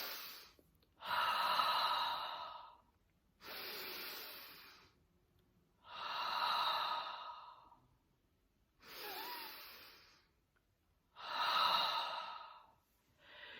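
Deep, slow focused breathing close to the microphone: five long airy breaths, each a few seconds long and separated by short pauses, steady and even, with no talking.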